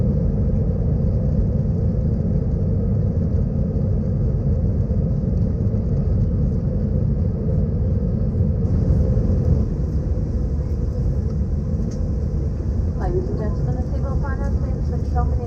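Steady, loud cabin rumble of an economy-class airliner just after takeoff from Sunshine Coast bound for Adelaide, a constant engine drone with a faint voice surfacing briefly near the end.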